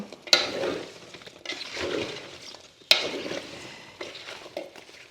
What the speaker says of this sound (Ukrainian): Порізала я яблука і тепер хорошо так перемішую все разом з сливами.